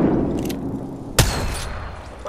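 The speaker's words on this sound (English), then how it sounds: "Look out, grenade." A single sharp blast from a video game grenade cuts through steady low rumbling game noise, brief and fairly loud, with no talk over it.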